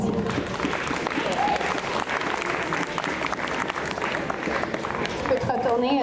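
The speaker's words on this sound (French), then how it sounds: "Alors on l'applaudit." At a sci-fi convention masquerade, an audience applauds a costume contestant with loud, continuous clapping from a large crowd. Cheers and voices mix in throughout.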